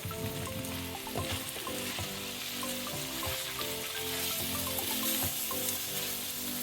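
Ackee frying in a pan with saltfish and bacon, a steady close sizzle with repeated stirring scrapes and light clinks throughout.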